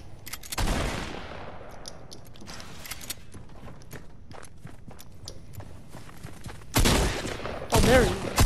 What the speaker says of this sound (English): Don't be shooting at me.